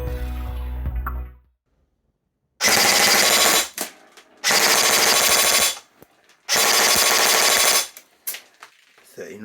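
A Specna Arms SAJ05 AK airsoft gun fires three long full-auto bursts of rapid, buzzing shots, loud and close, separated by short pauses, with a little low sound before the first burst.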